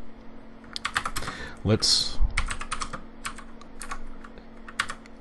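Keys clatter in quick irregular bursts as someone types a short program on a computer keyboard for a Z80 TinyBASIC system, with a brief spoken word partway through.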